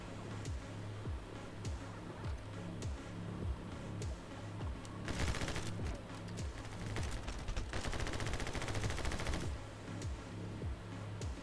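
Rapid gunfire bursts from the video game My Friend Pedro, dense rattling volleys that pile up into heavier sustained firing in the middle and again toward the end, fairly loud and continuous.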